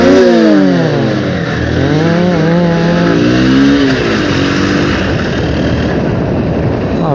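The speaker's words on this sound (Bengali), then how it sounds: "এক্সজাস্ট লাগানো থাকলে যা আওয়াজ উঠবে এরকম" A motorcycle fitted with an aftermarket exhaust revs on a narrow road, loud and close, its engine note swelling and falling in repeated sweeps before settling into a rougher steady drone.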